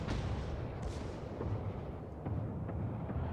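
Battleship main turret guns firing in the naval video game World of Warships, a heavy deep boom that rolls on with a long rumbling tail and a couple of further thuds, loud and with no talking.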